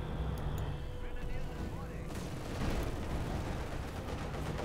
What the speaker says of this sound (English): we got the field gun bombarding the machine gun position near the shed, shattering with every shell